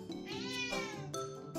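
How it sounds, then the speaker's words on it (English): A cat meows several times in quick succession, close and clear, with short rising and falling cries and no talk over them. "Stop meowing at me."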